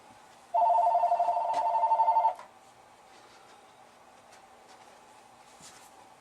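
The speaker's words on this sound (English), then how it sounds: "there goes the fucking phone." A telephone rings once, a loud warbling electronic trill lasting about two seconds, then quiet room tone follows with faint rustling and no talk.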